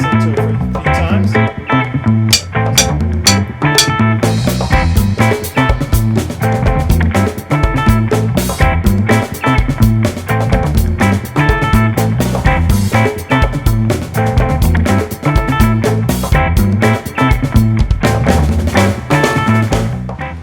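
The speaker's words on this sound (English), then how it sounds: "this is the beat that I came up with after listening to it for a few times" A drum kit plays a steady repeating beat worked out for a song, with punchy kick and snare hits under bright cymbals, loud and close from start to finish, with no talking.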